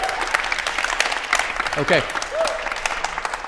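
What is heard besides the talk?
audience applause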